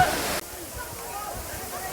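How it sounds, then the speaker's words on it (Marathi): Bee Falls waterfall at Pachmarhi, a steady broadband rush of falling water heard up close, continuous throughout with a brief louder burst at the start. "माझ्या पाठीमागे आपण जे दृश्य पाहत आहात ते आहे पचमडीचा प्रसिद्ध असलेला हा धबधबा बी फॉल या नावाने परिचित असलेला"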